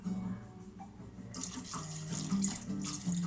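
Water runs from a kitchen tap as it is added to a chorizo meatball sauce, a steady splashing stream that grows fuller and brighter partway through.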